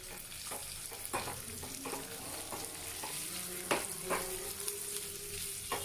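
Curry leaves and coriander hitting hot oil in a pan while making sambar, a bright continuous sizzle with repeated spoon scrapes and clicks as it is stirred, close and clear.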